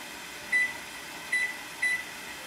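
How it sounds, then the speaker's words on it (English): Three short electronic beeps from a kitchen timer being set while chicken marinated in lime and cilantro cooks, sounding as a single tone, then a quick double, then another brief pair, close and clear over a quiet kitchen hum. "I'm going to put it on the timer for"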